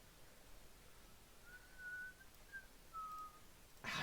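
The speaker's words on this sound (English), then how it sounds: "Don't whistle." Someone whistles a few short, thin notes, quiet and fairly close, with gaps of near-silence between them and a brief noisy burst at the very end.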